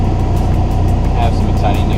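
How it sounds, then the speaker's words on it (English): A car's engine idles steadily from inside the cabin, a constant low rumble filling the background without revving, heard after O2 sensor wires were extended to clear a check engine light. "Alright, so I'm in the car. You can hear it's running."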